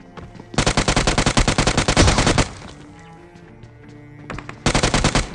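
A UMP submachine gun fires in PUBG Mobile. Rapid close bursts of automatic fire come in two long strings, then a pause with faint rumble, then another short burst.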